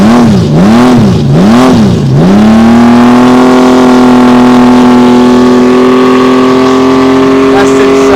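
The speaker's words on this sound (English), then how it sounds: "This is how smooth the engine is." A motorcycle engine revs a few times, then settles into a steady, loud, smooth idle close to the microphone, holding an even tone to the end.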